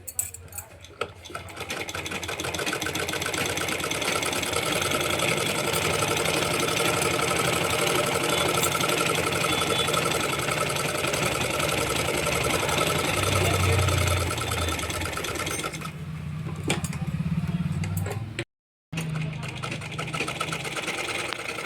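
A sewing machine runs steadily and close, stitching lining around a blouse sleeve with a fast even whir for most of the time, then slows, pauses briefly and restarts near the end.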